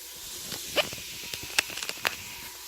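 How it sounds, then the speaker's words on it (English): Onions sizzling in olive oil in a pressure cooker, a quiet steady hiss broken by a few brief sharp crackles and pops, nearby and alone. "So I'm sauteing the onions."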